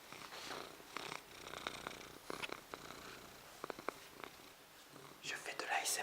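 Soft, close ASMR-style purring imitated by a voice, a steady breathy rumble with faint whispery texture and small clicks throughout.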